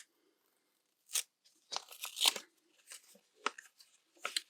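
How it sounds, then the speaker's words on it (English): A paper package being torn open by hand, with short bursts of ripping and crinkling paper that come close and fairly loud, separated by brief pauses. "So I'm going to open this really quick."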